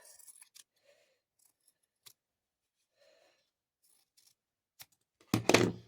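Scissors trim quilt fabric pieces from a Humble Beginnings quilt kit, with a few faint snips and small handling ticks in a quiet room, followed by a louder, brief burst of cutting and rustling near the end.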